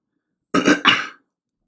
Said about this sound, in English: I have to clear my throat every minute.